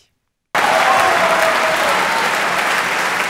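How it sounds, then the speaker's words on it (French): A concert hall audience at an orchestra performance featuring piano and trumpet bursts into loud, sustained applause after a brief silence, a thick continuous roar of many clapping hands. "De tels applaudissements valent mieux qu'un long discours."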